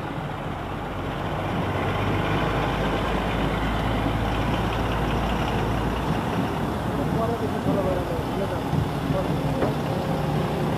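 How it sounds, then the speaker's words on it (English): Nepal Army armored personnel carriers of Number 17 Brigade roll past in a parade, a steady loud low engine rumble and drone sustained throughout with faint crowd or talk mixed beneath. "Number 17 Brigade with armored protected vehicles."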